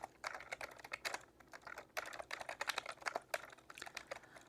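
Rapid tapping of long fingernails on a computer keyboard, close and quiet, in irregular bursts of clicky keystrokes with brief pauses between flurries.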